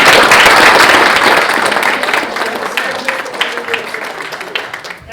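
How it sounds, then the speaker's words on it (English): A town council meeting audience applauds the 2019 Parker Civic Academy graduates, a loud burst of clapping that gradually thins out and softens over several seconds. "can you please give them a big round of applause?"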